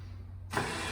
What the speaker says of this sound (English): bring the winch back in.